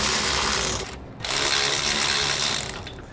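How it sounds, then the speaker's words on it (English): Ratchet tightening U-bolt nuts on trailer helper springs, a steady run of close, loud clicking that pauses briefly, then resumes and tapers off. "We'll get our U-bolts tightened down."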